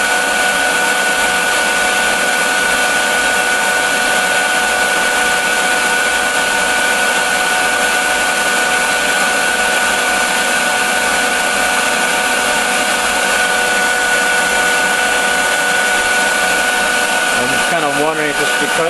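A prototype two-pound electric fluid bed coffee roaster runs with a steady, loud blower roar and a constant whine, a continuous drone throughout that shifts briefly near the end.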